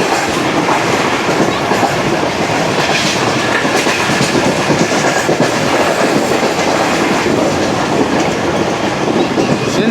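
Karakoram Express train rushing through a railway station in Sindh at night, a steady loud rumble with rapid clickety-clack of wheels on rails running throughout, close by and uninterrupted.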